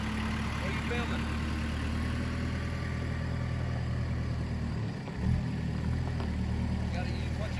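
A tractor engine idles in a steady, low, continuous rumble, close by and unchanging, with a brief dip and bump partway through.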